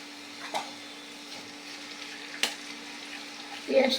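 Chopped onions fry in oil in a wok (karahi) for a chicken curry, giving a soft steady sizzle with a faint hum and a few sharp clicks of the spoon, ending in a louder scrape.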